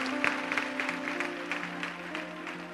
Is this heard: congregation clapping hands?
yes